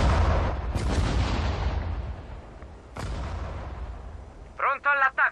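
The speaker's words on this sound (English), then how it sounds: "So, yeah, we're just going to fire a salvo there." Artillery salvo fires in the WWII strategy game Sudden Strike 4: loud, heavy booms with long rumbling decay, a second blast about three seconds in, then brief radio-style voice chatter at the end.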